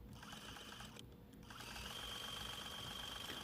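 A sewing machine runs steadily, stitching appliqué on an Americana quilt block. The stitching is a continuous mechanical whir with a short pause about a second in, then it resumes at a constant, moderate level with no talking.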